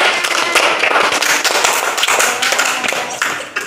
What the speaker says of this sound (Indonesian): Tepuk tangan untuk perempuan